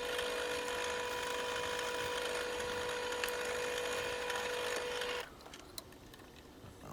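A steady, high-pitched whine of an eighth-inch drill bit boring into carbon steel knife stock runs for about five seconds, then cuts out, leaving quieter background noise.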